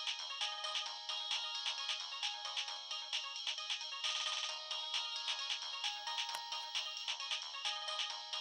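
A mobile phone ringtone plays a bright, repeating electronic melody of quick, evenly spaced notes, close and clear throughout, with no voices heard.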